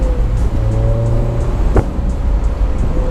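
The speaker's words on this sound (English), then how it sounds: "Let's switch over to me driving the car." A Honda S2000 AP1 roadster on the move, its engine a steady close drone with a tonal hum shifting pitch slightly as it runs, without any talking.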